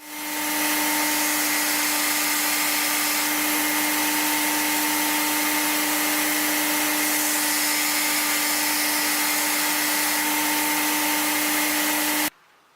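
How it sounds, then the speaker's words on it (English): A belt grinder runs at full, steady speed as the bevel is ground into a Damascus steel knife blade, a loud continuous whine and rushing hiss with a constant pitch that cuts off abruptly near the end. "Next, I'll grind in the bevel."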